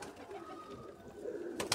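Pigeons on a rooftop coo softly, a low throaty warble rising and falling, fairly faint and close, with a short rustle or flutter near the end.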